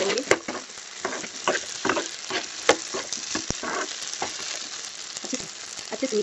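Sabudana khichdi seasoned with salt and black pepper is stirred in a pan, a soft continuous sizzle cut by rhythmic scraping and tapping of the spoon, close and steady with no speech.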